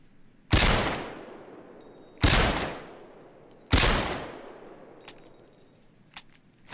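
Three loud, sharp WA2000 sniper rifle shots in Payday 2, evenly spaced about 1.5 seconds apart, each with a long decaying tail, followed by faint mechanical clicks.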